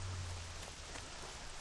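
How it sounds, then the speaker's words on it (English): Rain in World of Warcraft Classic, a soft, steady patter of drops falling on surfaces, fairly faint and continuous for a brief moment with no talking. "And I love the rain in Classic."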